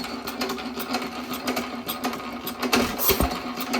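A 1917 Economy hit-and-miss engine with low compression and blow-by past the piston runs with a fast, steady mechanical clatter, heard up close with a few sharper knocks.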